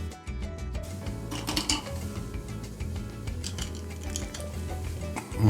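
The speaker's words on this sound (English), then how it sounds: "Stir a little." A big batch party cocktail stirred in a vessel with ice and a utensil, steady clinks and sloshing scrapes that keep going, with a firmer knock at the very end.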